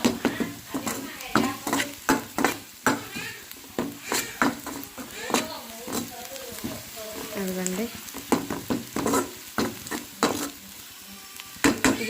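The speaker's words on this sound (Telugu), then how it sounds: "దీన్నైతే పచ్చివాసన పోయిందాకైతే అయితే బాగా ఫ్రై చేసుకోవాలి" Masala for chicken curry frying in a pan, with frequent sharp scrapes and clacks of a spoon stirring against the metal over a low sizzle, while someone talks throughout.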